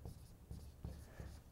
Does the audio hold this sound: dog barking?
no